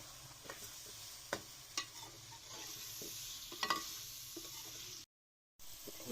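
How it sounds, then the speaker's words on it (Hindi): Tomatoes and green chillies frying with chicken meat in a pot, giving a soft steady sizzle broken by occasional stirring scrapes and clinks, then a brief dropout near the end. "अब टमाटर को भी अच्छी तरह से भूनेंगे हम।"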